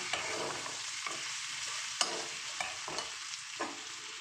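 Mixed vegetables with dried fish and turmeric sizzle in a pan while a spoon stirs them, making rhythmic scraping strokes about every half second over a constant hiss.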